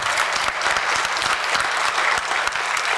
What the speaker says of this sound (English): Round of applause on that.